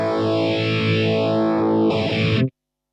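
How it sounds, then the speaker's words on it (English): Electric guitar through a Univibe pedal, a sustained chord throbbing with a slow sweeping, phaser-like vibrato and chorusing, followed by a second strummed chord that cuts off cleanly. "The Univibe sounds very similar to the phase shifter that we had a look at earlier"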